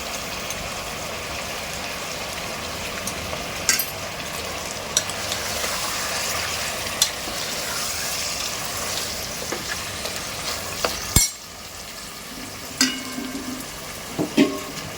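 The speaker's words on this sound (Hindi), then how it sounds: "2 से 3 मिनट इसको अच्छे से भुनाई कर ली और इसका मटन का कलर भी चेंज हो गया है।" Mutton and tomato frying in a pot give a continuous close sizzle, with occasional spoon knocks and stirring scrapes on the pot rim throughout.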